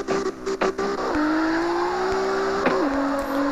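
Simulated car drifting in the mobile racing game CarX Drift Racing 2: a steady, loud engine drone with gear-shift pitch drops and a few brief tire-squeal bursts near the start, with no talk.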